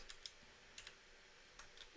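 Three quick pairs of key presses for Alt Gr and 1 on a computer keyboard, spaced evenly with short pauses between them, crisp and faint against a quiet room.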